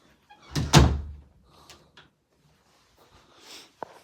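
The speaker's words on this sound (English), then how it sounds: "He just opened the door." A door is opened with a loud thunk and rattle near the start, followed by a few softer knocks and shuffles in a quiet room, with no talking.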